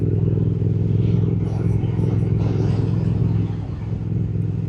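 A Triumph Speed Twin 1200 motorcycle hums steadily under a rider on a smooth, new road, with a deep engine drone and wind rush that stay constant throughout.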